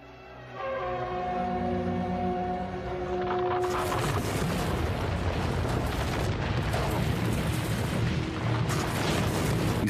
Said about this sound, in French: Les murs de Jéricho s'effondrent.